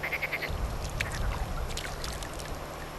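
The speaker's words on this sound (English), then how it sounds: "You can hear the frogs." Frogs croaking beside the wide, slow-flowing Euphrates River at night, with a short run of rapid croaks at the start and then scattered calls over a steady hum of water and insects.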